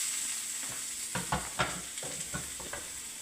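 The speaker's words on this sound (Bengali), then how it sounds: "এবারে আমি গাজরটা দেবো এর মধ্যে।" Grated carrots and raisins fry in a pan for carrot halwa, giving a soft, steady sizzle broken by a few light spatula stirs and scrapes near the middle.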